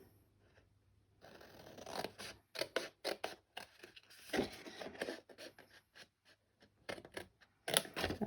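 Scissors snip through paper in a close, irregular series of crisp cuts with short pauses, shaping a hand-penned triangle fold flat gift box at a craft table.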